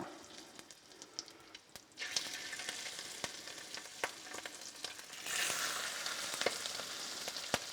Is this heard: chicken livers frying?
yes